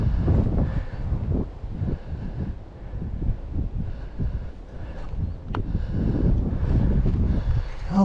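Steady wind rushes over a forest hiking trail in Frozen Head State Park, a loud continuous roar with gusty swells and buffeting on the microphone, and no talk.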